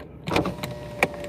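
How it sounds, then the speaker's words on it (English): A car's electric power window motor whirs as the glass rolls down, a short steady drone with a couple of faint clicks, close and alone with no talking. "Actually, I can just roll the window down."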